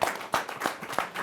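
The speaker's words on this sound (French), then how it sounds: "On peut l'applaudir." A short burst of audience applause, several distinct claps rising and falling at a steady pace, fairly near and moderately loud.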